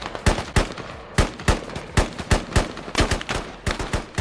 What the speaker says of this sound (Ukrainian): Ворог десь справа, по ним бахують з правої сторони, нашого одного бахнули.